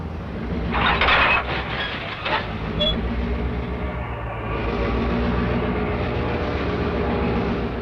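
Diesel-hauled freight train 406 from Brockville arriving at the west end of rail yards in 1958: a low, steady engine rumble with a burst of clanking and hiss early on, then continuous rolling drone of cars at moderate distance.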